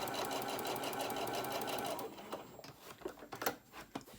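A sewing machine stitches fabric in a fast, even mechanical chatter for about two seconds, then stops, leaving scattered clicks and handling noises close by.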